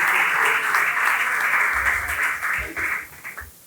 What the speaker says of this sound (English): Let's give a round of applause for Mercy